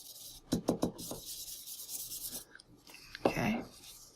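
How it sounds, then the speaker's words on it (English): An embossing tool is drawn across a stamped paper background in a few quick scraping, rubbing strokes, followed after a pause by another firm rub, close and fairly quiet. "I'm going to use my embossing tool to spread."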